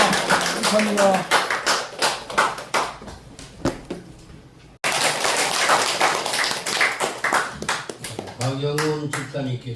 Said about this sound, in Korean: 다 같이 박수로 영광 돌립니다.